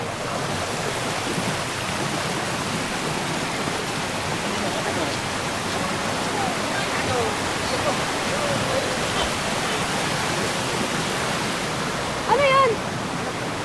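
Balagbag Falls in Real, Quezon pours in a steady, loud broadband roar of falling water close by, with a brief voice rising near the end.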